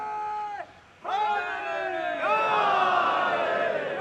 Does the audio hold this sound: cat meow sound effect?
no